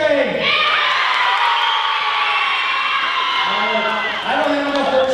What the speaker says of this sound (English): Give me some cheering.